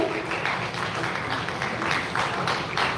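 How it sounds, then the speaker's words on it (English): Loud, dense audience applause fills a hall at a live Astha School of Management honour ceremony, continuous close clapping with a few sharper bursts throughout. "Astha, I need a louder applause"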